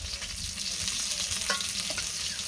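Fish frying in a pan on a home stove, a continuous crackling sizzle with scattered pops and soft stirring scrapes throughout, close and without talk.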